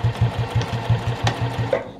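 A sewing machine backstitching the corner of a fabric knitting needle case chugs in a quick, even run of about a dozen stitches, loud and close, then slows to a stop.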